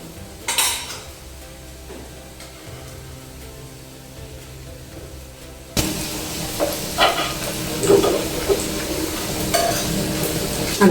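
Potato vadi fry in a pan, a soft background sizzle that swells suddenly into a louder, fuller hiss with scattered spatters and clinks of a utensil against the pan, near and continuous.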